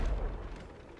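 A cannon blast in the pirate ship battle game Abandon Ship: one deep, booming explosion that erupts loudly at the start and rumbles away over about a second.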